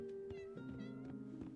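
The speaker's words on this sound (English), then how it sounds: "I hear you, kitty cat." A cat meows from the cozy life game Heartopia, with several short plaintive mews over steady game music, near and clear.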